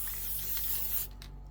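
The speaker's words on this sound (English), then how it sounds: "So I'm just going to spray the back of this and get it to lay a bit flatter" Spray bottle misting the back of stitched fabric to flatten it, a close continuous hiss that holds for about a second then stops, with a couple of faint follow-up puffs.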